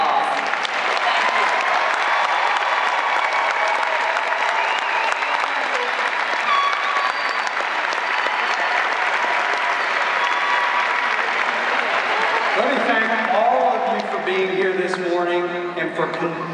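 A large university graduation audience applauds the graduates, a sustained roar of clapping that holds steady, with a voice emerging over it toward the end.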